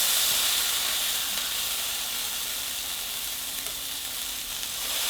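A burger patty for loco moco sizzling hard in a hot pan while pressed flat with a spoon, a dense unbroken frying hiss held close and steady for several seconds, no talking.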